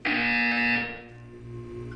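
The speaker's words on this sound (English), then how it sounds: "You will hear a buzzer." Electronic buzzer in the video game Portal 2, a loud, harsh tone that sounds once for about three quarters of a second and then fades into a quieter hum.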